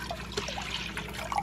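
Milk being poured into a pot for spicy macaroni and cheese, a soft steady trickle of liquid lasting a second or two, close and fairly quiet.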